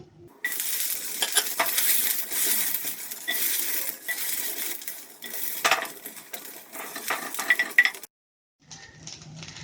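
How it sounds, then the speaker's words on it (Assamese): Pieces of okra fry in a pan with a steady sizzle, while a utensil stirs and clatters against the metal close by. The sound cuts out briefly near the end, then a quieter sizzle returns. "মাছখিনি ভজাৰ আগতে মই ভেন্দি কেইপিচমান ভাজি লওঁ"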